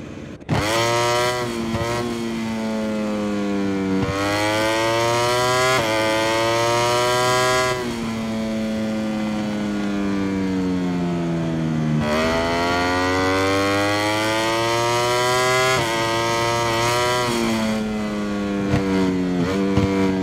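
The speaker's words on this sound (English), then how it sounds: "The rider makes his way confidently to the bike, about to take to the track." A racing motorcycle engine at Losail Circuit in MotoGP 22, loud and continuous, repeatedly winding up through the revs and dropping back as gears shift, sustained throughout.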